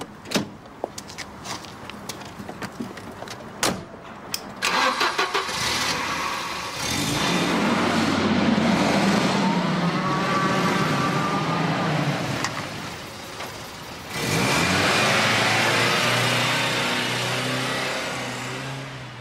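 A car starts up and pulls away, with door and window sounds in the opening seconds before a steady engine rumble builds, then a second louder surge of engine noise as it drives off; no speech.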